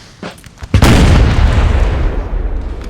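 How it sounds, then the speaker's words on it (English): In Napoleon: Total War, a single heavy horse artillery boom erupts after a few smaller thuds at the Battle of Borodino, followed by a long rumbling roar of battle noise that slowly fades. "Horse artillery here just harassing."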